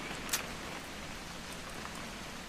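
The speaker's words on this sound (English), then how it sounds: "It's gonna rain the whole weekend, isn't it?" Rain falls steadily in The Remains of Edith Finch, a soft continuous hiss of drops with one faint brief tap near the beginning.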